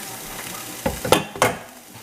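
Tofu, carrots and broccoli sizzle in a pan for dinner, with a quiet hiss broken by three or four short, louder bursts of frying and stirring, close by with no talking.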